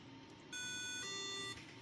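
Social distance robot sensor giving a steady electronic beep as a hand comes close, a faint tone starting partway through and shifting pitch once before it stops.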